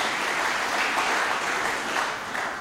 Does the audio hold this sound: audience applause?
yes